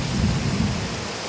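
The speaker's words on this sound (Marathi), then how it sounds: "पाऊस भरपूर पडतोय" Heavy rain pours in a dense, loud, continuous wash with a deep low rumble beneath it.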